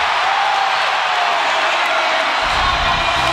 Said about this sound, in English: Crowd in a frenzy right now here in Lubbock